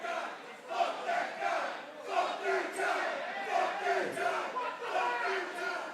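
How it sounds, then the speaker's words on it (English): A split pro wrestling crowd at an Innovative Pro Wrestling show roars and chants, a dense, loud wall of many voices rising and falling in rhythmic surges. "The crowd is split."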